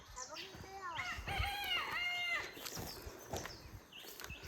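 Chickens on a Konkan farm crowing and clucking close by, a rooster's drawn-out crow in the middle with shorter clucks around it, over faint outdoor background.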